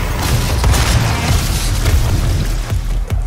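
Loud, dense explosions and booming blasts from combat in the 2016 video game Doom, rolling continuously with sharp bursts layered over a heavy low rumble throughout.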